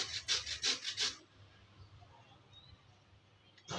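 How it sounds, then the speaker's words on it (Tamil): Potatoes are grated for vada: about five quick rhythmic rasping strokes, close and fairly loud, then the scraping stops and only quiet room noise remains. "இந்த மாதிரி ரெண்டு உருளைக்கிழங்கையும் திருவி எடுத்துடலாம்"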